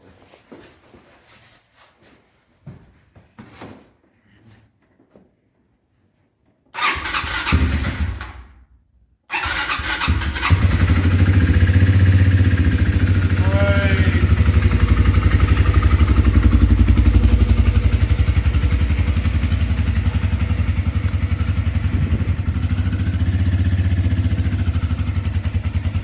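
A Kymco Mongoose 250cc quad, long abandoned, cranks after quiet handling noises, falters briefly, then catches and settles into a loud, steady idle with a rough mechanical clatter running to the end.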